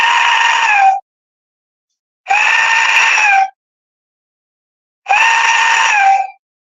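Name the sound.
Aztec death whistle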